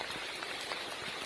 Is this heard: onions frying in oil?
no